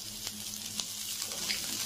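Chopped green chillies sizzle steadily in hot oil for sago khichuri, a soft even frying hiss with a few faint stirring clicks.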